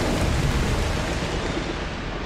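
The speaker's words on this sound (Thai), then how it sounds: "ได้เวลาเรียกฝนครับโอ้มฝนจงมาไปเลยพายุ" Summoned rain and thunderstorm in Broken Pieces pour down as a loud, dense, unbroken roar of rainfall with a deep rumbling undertone, close and filling the whole moment.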